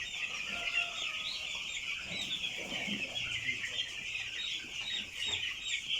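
Crowded 11-day-old broiler chickens on a farm chirp and cluck continuously in a dense, high-pitched chorus, steady and moderately near with no talking.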